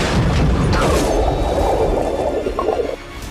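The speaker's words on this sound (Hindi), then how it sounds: "अचानक बड़ा विस्फोट हो जाता है" A loud, deep boom rumbles and fades over a few seconds, a heavy low blast with a crackling tail.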